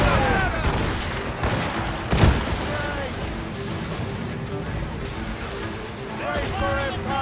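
Ship cannons fire during a naval battle in the video game Assassin's Creed Rogue, with one heavy boom standing out midway through a rumbling, continuous din while crew voices shout throughout.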